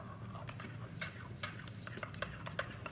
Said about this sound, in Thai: ค่อยใส่ตัวอย่างลงไปนะคะแล้วก็ค่อยๆกวนนะคะ